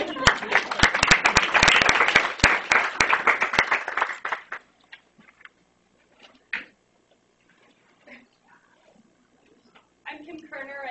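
A room of people at a university showcase breaks into dense, close clapping that fades out after about four seconds, leaving near silence with faint shuffles before a voice begins speaking.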